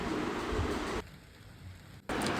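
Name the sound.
rain at night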